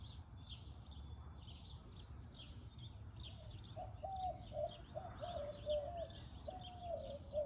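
A bird calls repeatedly in short, high chirps over a steady outdoor hum in Texas, joined midway by a lower warbling call.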